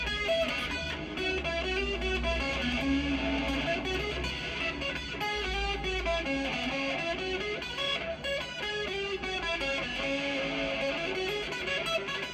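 Electric guitar played through the bridge pickup of a Gibson SG with distortion, a loud, sustained, crunchy stream of driven chords and notes, played alone with no talking.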